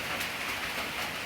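Steady rain falls in a brief, continuous hiss of drops on surfaces, even and unbroken, with no other sounds standing out.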